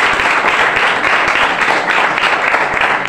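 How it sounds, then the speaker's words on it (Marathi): Tenth-grade students at a school farewell give their teacher loud, dense applause, many hands clapping close by in a continuous, vigorous wash that never lets up. "त्यांच्यासाठी जोरदार टाळ्या होते."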